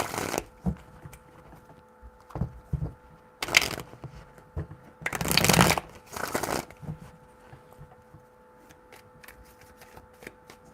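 Tarot cards shuffled in three loud bursts, each a dense papery riffle, between softer handling taps and crinkles, with no talking.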